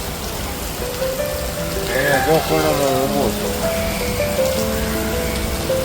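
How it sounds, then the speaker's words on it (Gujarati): Heavy rain pours down during a motorbike ride through Surat city, a steady broadband hiss filling the whole clip beneath someone speaking and some passing tonal traffic sounds. "ફૂલ વરસાદ વધી ગયો છે."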